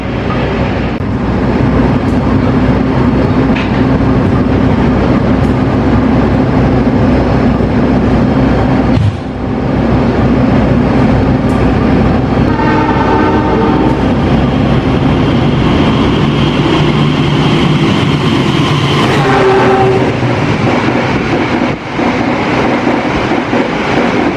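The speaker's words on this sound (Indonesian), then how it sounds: "Kita tunggu kereta cepat ini meluncur. Secepat apa di sini? Harusnya 120 km per jam nih Argo Dwi Pangganya." An Argo Dwi Pangga express train rushes past at around 120 km per hour, a loud sustained roar of wheels and carriages with rhythmic clatter and a brief horn-like tone near the end, heard close by.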